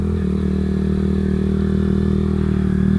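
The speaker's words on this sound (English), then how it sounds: "So I'm going into second gear here." A Kawasaki Z125 track bike engine drones steadily and loud from close by, with a brief shift in pitch at the very start as it drops into second gear.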